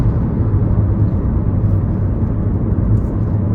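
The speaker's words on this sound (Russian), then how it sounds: "гудит какой-то подшипник ступичный" Worn car wheel hub bearing droning from inside a moving car, a loud steady low hum like a landing airplane, continuous and unbroken with no talk.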